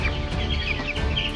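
An Ayam Cemani crossbreed chicken at a farm in Temanggung, Indonesia, gives short repeated clucking calls close by, forming a brief steady sequence over low background noise.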